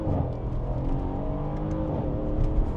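A Mercedes-AMG C63 V8, set to Sport Plus in manual mode, accelerates as heard from inside, with a rising, rumbling engine note that builds steadily and grows louder toward the end.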